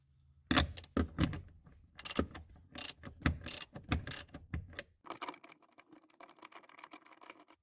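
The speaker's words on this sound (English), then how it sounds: "we need to remove this seat anchor right here, which is an 18mm bolt" A ratchet works an 18mm seat anchor bolt inside a Saab 9-3, giving sharp close clicks in uneven bursts followed by a quicker, lighter run of ratcheting.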